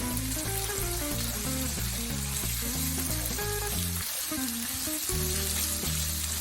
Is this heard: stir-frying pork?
yes